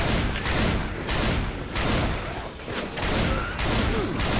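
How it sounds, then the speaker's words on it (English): Gunfire in the co-op zombie shooter Left 4 Dead 2: close, loud bursts of rapid shots broken by short gaps, repeating across the stretch. "Sporadically shooting."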